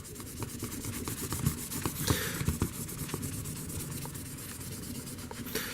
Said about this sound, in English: We're going to go ahead and use the number 4 rubbing compound, or the number 4 side.